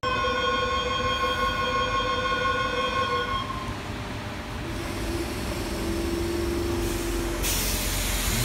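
A train running, heard from inside a warm carriage: a steady rumbling rush with high tonal squeals from the wheels fading out early and a brief hiss near the end, without any talking.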